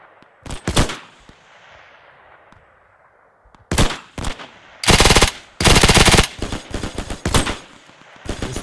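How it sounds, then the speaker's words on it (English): A .30 cal machine gun fires in the video game Hell Let Loose, loud sharp bursts of rapid shots separated by pauses, the longest strings rattling off in quick succession, with no talking over them. "I hear that 30 cal."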